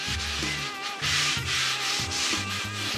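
A cloth wipes grease over the surface of a Lone Star Grillz pellet smoker, making a steady, close, soft rubbing hiss in several sweeping passes, with low tonal hum underneath.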